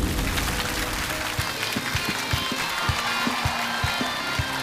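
A standing studio audience gives sustained, dense applause in honor of fallen test pilots, with a steady roar of clapping over a soft rhythmic low thumping throughout.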